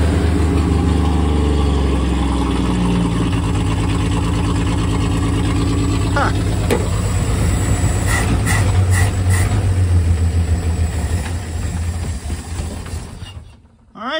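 A 1974 Plymouth Duster engine rescued from a parts car runs steadily at a loud, rough idle with a deep low rumble, briefly revving in the middle before cutting off abruptly near the end.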